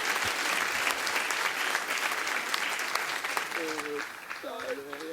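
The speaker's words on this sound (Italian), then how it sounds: "Un bel applauso" A crowd applauds warmly to welcome the mayor of Tonara at an outdoor solidarity concert in Sardinia, a thick wash of clapping that fades slightly near the end as a voice starts speaking over it.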